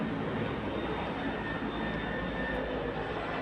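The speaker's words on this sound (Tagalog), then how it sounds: "Lo, ang baba ng helicopter." A low-flying helicopter passing overhead, a continuous faint engine drone with a steady low hum, no voices over it.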